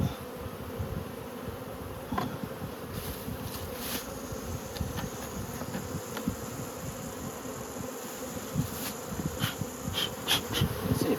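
Honey bees buzzing densely around beehives being moved in November, a continuous close drone with individual bees zipping past, no voices.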